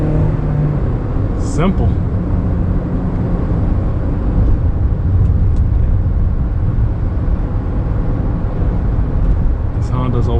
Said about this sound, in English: A little bit of acceleration. Honda motors opening up.